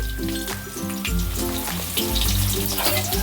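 Thickly sliced onions sizzling in a pan, a steady close frying hiss throughout, with a background music track playing over it.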